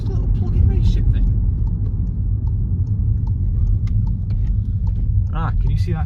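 Car engine pulling hard under acceleration after a plug-in race chip tuning module was installed, a steady low rumble filling the cabin throughout, with a voice speaking briefly near the end.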